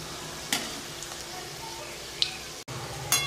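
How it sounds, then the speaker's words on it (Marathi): Karanji pastries slowly frying in ghee: a continuous gentle bubbling sizzle heard close, with a couple of brief clicks and taps from handling the pan. "आता पा आपल्या करंजा किती हळूहळू तळून राहिल्यात"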